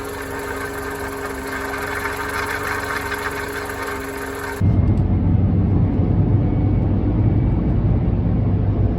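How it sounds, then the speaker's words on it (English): Steady engine drone from inside a moving car, with a sustained gearbox whine in fifth gear running beneath it; the tone shifts partway as the road and engine noise thickens. "there was an awful gearbox whine in fifth"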